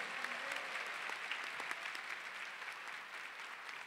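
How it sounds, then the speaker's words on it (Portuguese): Sustained, evenly textured applause from a church congregation during a homily on Our Lady of Sorrows, a continuous wash of many hands clapping with no voices standing out. "Pode aplaudir para valer"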